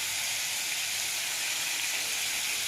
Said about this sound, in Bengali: ঝিঙে আর পেঁয়াজ আমি ভালোভাবে ভেজে নেব